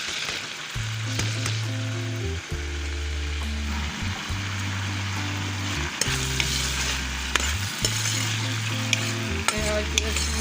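Onions fry in a pot over high heat for chicken handi, a loud constant sizzle close up with repeated stirring scrapes and clinks, alone without talk, over a steady low hum.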